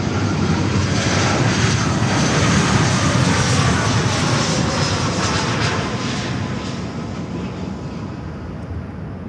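An aircraft landing at Miami airport on runway 9, a loud continuous engine roar and rushing noise close by that slowly fades toward the end.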